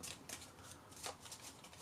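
Playing cards for the Undaunted Normandy board game being shuffled up close in a few quick papery riffling bursts, with no talking.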